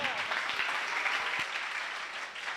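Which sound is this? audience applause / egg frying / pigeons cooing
audience applause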